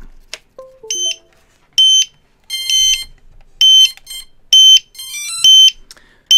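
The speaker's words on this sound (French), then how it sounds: "Vous pouvez constater que ça bip constamment parce qu'il a l'impression donc on est en low batterie, on est en cut-off." A Quanum Nova drone on low-battery cut-off beeps over and over, a run of short falling tones followed by loud, shrill electronic bursts repeating at a steady pace with gaps between them.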